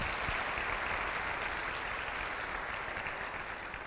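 Congregation at a family church service applauding, a steady wash of many hands clapping that fills the whole stretch evenly and fades slightly toward the end.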